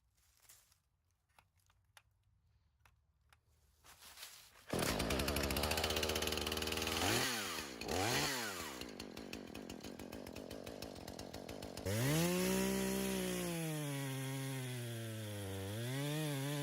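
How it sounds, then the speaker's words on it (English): A new chainsaw is pulled a few times, then roars to life and runs loudly, its engine revving up and down several times. "I got the new chainsaw. Put the oil, the gas, primed it. Let's see if this thing starts right up."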